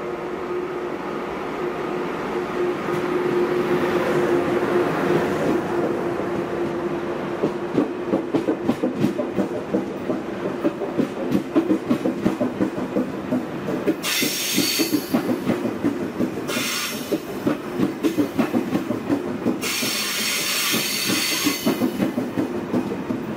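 Train rolling into München Hauptbahnhof: a low rumble of wheels with rhythmic clicking over rail joints, then bursts of high metallic brake and wheel squeal, following a brief station announcement.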